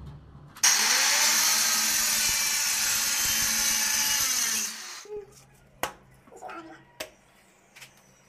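A wall tile being cut with a power cutter, a loud steady whine for about four seconds that ends abruptly, followed by a few sharp knocks and handling clatter.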